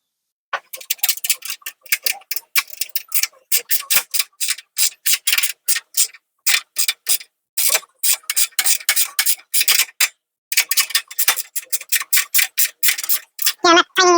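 A socket or ratchet snugging 10 mm nuts on a BORA miter saw stand: rapid ticking clicks in bursts, loud and close, with short pauses between runs.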